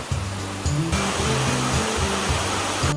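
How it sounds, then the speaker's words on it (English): Forest waterfall near Gabala, Azerbaijan, giving a steady, loud, broadband rush of falling water with no break, under a low droning hum. "This is how the waterfall looks like."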